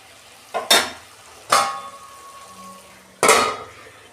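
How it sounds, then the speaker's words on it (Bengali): A metal lid lifted off a cooking pot of a Bengali drumstick-flower dish, three distinct clattering knocks with a brief ringing tail between them, loud and close with a soft sizzle underneath and no talking. "দেখুন বন্ধুরা, ঢাকনা খুলছি"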